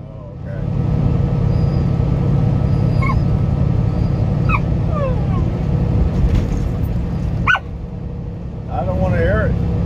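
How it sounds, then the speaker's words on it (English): Dog whimpering inside a truck cab during a haul from Aurora, Colorado, a few high rising whines and yips scattered over a steady road rumble of the moving truck. "Complaining about being in the big seat there, Max?"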